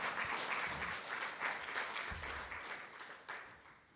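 A church congregation claps and applauds as an offering of praise during a Spanish-language evangelical service, with steady, sustained applause filling the room throughout and a few louder bursts.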